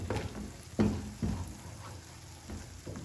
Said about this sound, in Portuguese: Dando uma fritada nesse ovo e nessa cebola.